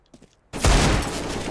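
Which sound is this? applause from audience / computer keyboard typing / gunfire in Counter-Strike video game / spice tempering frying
gunfire in Counter-Strike video game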